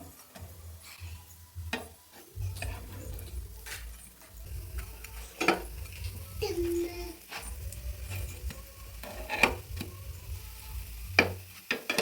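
A potato and sweet potato vegetable mixture fries in oil in a pan and is flipped, giving a faint sizzle with scattered scraping and tapping of a utensil, while a voice talks intermittently.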